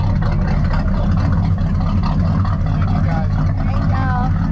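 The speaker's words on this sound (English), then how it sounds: "it has a Crusader 8-cylinder 220 horsepower motor in it." Crusader 8-cylinder 220 horsepower V8 in a 1930 Chris Craft wooden boat at a classic wooden boat show, a loud, close, steady low rumble throughout with people talking over it.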